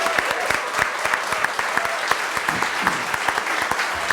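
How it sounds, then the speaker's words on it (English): A live audience at a storytelling slam event applauds steadily, a dense wash of many hands clapping close and loud throughout, with a faint voice or two underneath. "how about one last round of applause for our storytellers?"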